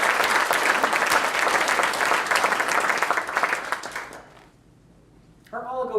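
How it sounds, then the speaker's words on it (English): A summit audience gives sustained applause for brain tumor researchers, dense clapping filling about four seconds before fading to near silence, then a voice begins speaking at the end. "Let's have a round of applause for them"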